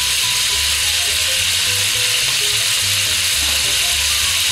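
Pieces of lamb brown in a pan for a navarin, giving a loud, close, continuous sizzle and crackle that holds steady throughout.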